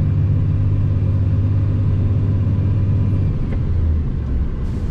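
A Blue Energy Motors LNG 18-wheeler truck engine labours up a steep incline in third gear, producing a loud, steady low rumble that holds close and constant throughout, with no talk.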